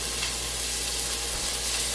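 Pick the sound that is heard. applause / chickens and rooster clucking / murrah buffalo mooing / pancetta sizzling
pancetta sizzling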